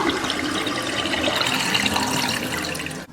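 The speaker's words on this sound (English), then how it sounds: "Then you want to flush the toilet." Dual flush toilet flushing, a loud close rush of water that pours steadily for a few seconds, then cuts off.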